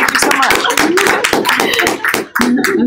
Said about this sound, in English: should we clap for AJ?